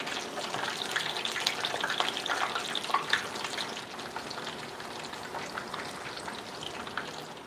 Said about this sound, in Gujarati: હાઈ ફ્લેમ પર વેફરને તળવી જરૂરી છે